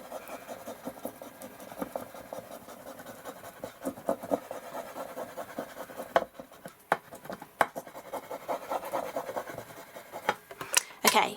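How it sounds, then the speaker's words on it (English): Glide bone folder rubbed over foil transfer paper on cardstock, giving a soft, continuous scratchy rubbing with uneven strokes, close and fairly quiet, alone. "you just use your glide bone folder to rub over the top of it"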